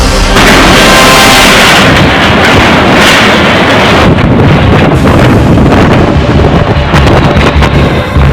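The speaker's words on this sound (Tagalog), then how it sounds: "Nakapangingilabot ang lakas ng hanging dala ng bagyong Rolly nang lumatay ito sa Viga Catanduanes" Strong typhoon winds of Typhoon Rolly lashing Viga, Catanduanes, a loud continuous roaring buffet that batters the microphone with gusty surges and thumps, no speech.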